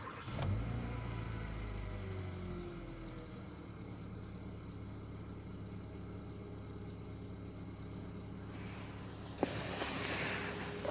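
Engine of a 2014 Kia Cerato with a reported knocking fault, idling steadily and close by at a low, even hum, with a sharp click near the end before a brighter rise in noise.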